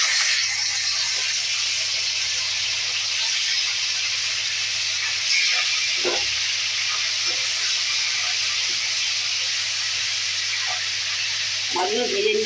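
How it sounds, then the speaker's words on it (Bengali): Tilapia fish rubbed with salt and turmeric sizzles and hisses steadily in hot oil in a wok, a continuous bright frying noise with a few faint clinks and stirring sounds. "কড়াই তেল দিলাম, তেলাপিয়া মাছ ছাড়ছি।"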